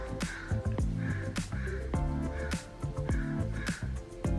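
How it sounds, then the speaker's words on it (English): A crow caws repeatedly outdoors in several loud, harsh calls spaced about a second apart, with other background noise throughout. "there is a bird outside"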